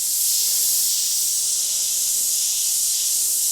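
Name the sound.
airbrush spraying paint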